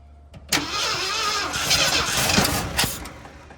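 An old Ford F350 that sat unused for 22 years cranks hard and tries to catch, its engine roaring up loudly for about two seconds then sputtering and fading, with a few sharp knocks and faint voices nearby.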